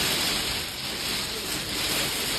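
Hail falling outdoors near a turbulent ocean, a dense hissing patter of countless small impacts spreading evenly across the whole moment with no voices.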